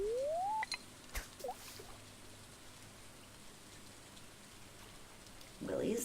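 Steady rain patters across the Stardew Valley farm setting, a soft even hiss that fills the scene with a few brief clicks and game tones at the start and a louder burst near the end.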